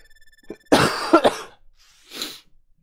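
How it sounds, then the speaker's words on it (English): A person coughs in two loud, close bursts, the first a quick double hack, followed after a pause by a softer throat-clearing cough, with faint beeps just before. "I wasn't coughing like this earlier."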